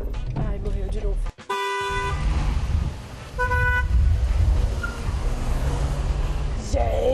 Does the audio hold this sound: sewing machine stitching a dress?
no